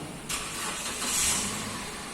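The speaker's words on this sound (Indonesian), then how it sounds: "Start engine, kondisi mesin bisa nyala." Car engine starting: a brief quiet moment, then the starter cranks and the motor catches, settling into a steady close idle with a slight rise in revs.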